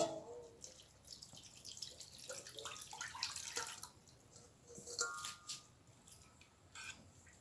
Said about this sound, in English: I'm gonna add some water, give it a 1 rinse.